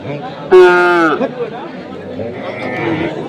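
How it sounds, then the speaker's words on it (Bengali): At a cattle market in Ranirbandar, Dinajpur, where beef cattle are sold, a loud nearby moo rings out for about half a second over crowd chatter and talking. "হায়দার ভাইয়ের যে গরুগুলো কিনছেন আমরা সেই গরুগুলো তথ্য আপনাদের দিচ্ছি"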